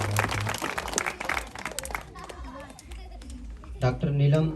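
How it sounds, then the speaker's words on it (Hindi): An audience at a New Year church service near Raoti claps in welcome, scattered rapid handclaps mixed with voices, fading then briefly rising again near the end. "सब ताली बजा के स्वागत करें।"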